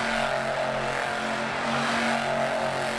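The Monster Jam truck Time Flies spins a donut in dirt at an Anaheim stadium, its engine roaring loud and steady with no letup, a sustained droning growl throughout.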